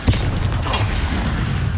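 A Confringo blast spell in Hogwarts Legacy lands as a short, dense explosion with a broad rumbling boom that holds steady for under two seconds.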